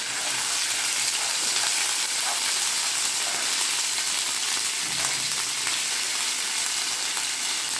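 Ginger paste frying in a spoonful of hot oil in a pan, a dense continuous sizzle and crackle that stays steady and close throughout, with no voices.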